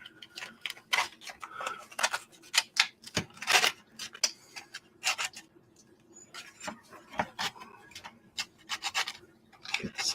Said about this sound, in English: other one sanded here real quick